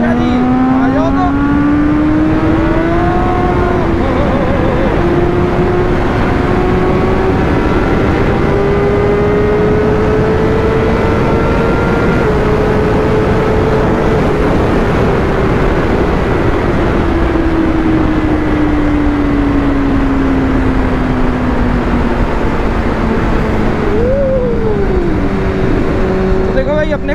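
A BMW S1000 RR motorcycle engine pulling hard at high speed up toward sixth gear, a loud, steady roar whose pitch rises and falls over a long run, with heavy wind rush throughout.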